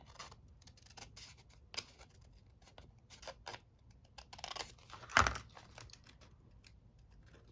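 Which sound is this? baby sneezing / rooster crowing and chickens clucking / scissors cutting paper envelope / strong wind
scissors cutting paper envelope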